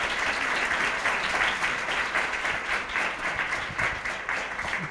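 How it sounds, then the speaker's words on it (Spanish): Audience applause at a circular-economy pitch event in a museum, steady dense clapping from a crowd sustained throughout without a break. "Otro aplauso para las emprendedoras de Muta."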